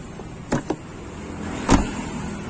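Door on a used Ford Figo at a second-hand car lot, heard as two quick clunks early on and a heavier solid thud later, close and moderately loud over a steady low background hum.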